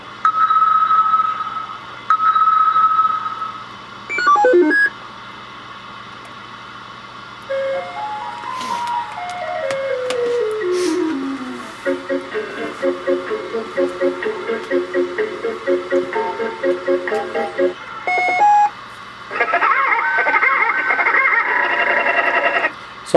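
A novelty noise toy box with an SD card plays back a fast string of electronic sound effects: a short jingle, descending and stepping tone sequences, rapid beeps and a buzzy final burst, loud and close, separated by brief pauses.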